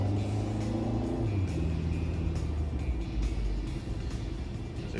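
Traffic on a four-lane road rumbles loud and close as cars pass and accelerate in a continuous wash of engine and tire noise.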